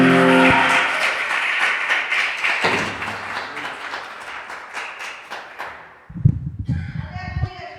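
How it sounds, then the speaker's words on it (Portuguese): A church congregation bursts into loud applause during a worship service. The clapping fades gradually over several seconds, and then a voice starts speaking. "aplauda o Senhor, aleluia."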